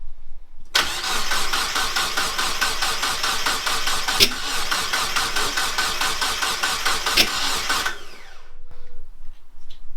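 A turbocharged Mazda MX-5 Miata engine cranks with a rapid, even starter rhythm for about seven seconds, loud and close, followed by quieter ambient sounds after it stops.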